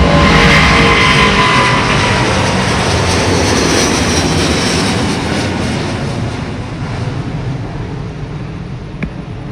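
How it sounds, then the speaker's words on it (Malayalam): A jet airliner takes off nearby, a loud, sustained engine roar with a broad rushing rumble that slowly fades as the plane climbs away. "ഫ്ലൈറ്റ് പൊന്തണു."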